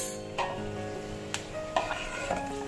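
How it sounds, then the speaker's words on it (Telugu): Curry leaves and asafoetida in a tablespoon of hot oil in a kadai, a soft continuous sizzle broken by a few brief scraping stirs. "అందులో 1 టేబుల్ స్పూన్ ఆయిల్ వేసుకొని కరివేపాకు, ఇంగువ వేసుకొని కలిపేసుకుందాం"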